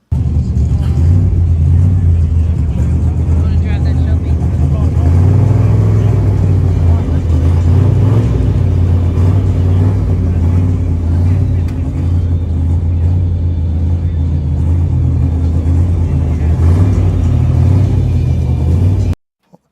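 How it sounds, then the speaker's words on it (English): Cars idling and revving at a car show, a steady loud engine rumble with crowd chatter and voices running underneath throughout. "Check out some of these cars real quick."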